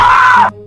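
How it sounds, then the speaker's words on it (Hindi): A single loud, close scream rings out from one person, a sustained strained cry of about half a second that cuts off abruptly. "फिर से किसी के चीखने की आवाज़ आती है।"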